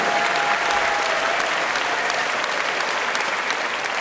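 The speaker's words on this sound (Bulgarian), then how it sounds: "моля бурни аплодисменти за нея" Loud, sustained applause from an audience at a Bulgarian ceremony honouring guests, dense steady clapping filling the whole stretch with a faint tone briefly behind it.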